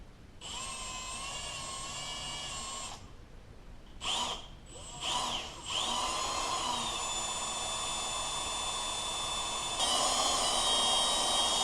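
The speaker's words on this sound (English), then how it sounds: "I'm actually going to set my drill to a lower speed" A power drill set to low speed bores a small hole in a 4L80E transmission part, its steady whine running for several seconds after a few brief starts and stops, close and fairly loud with no talk.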